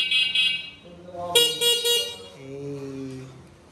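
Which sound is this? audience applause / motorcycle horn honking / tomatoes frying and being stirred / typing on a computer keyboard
motorcycle horn honking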